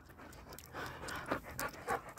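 A dog panting heavily on a walk, quick rhythmic breathy huffs close to the microphone, moderately quiet, with no talking during the bursts.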